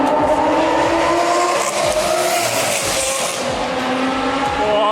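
Heavy traffic roars along elevated motorways overhead in industrial Yokohama, a loud, continuous wash of engines and tire noise with no break.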